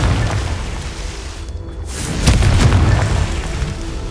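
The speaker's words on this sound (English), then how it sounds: "Confringo!" Confringo fire spell blast in Hogwarts Legacy: a loud, deep booming explosion that swells partway through and rumbles on, set against continuous dense game ambience, with no talking.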